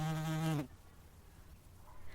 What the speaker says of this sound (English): a wasp flew into the room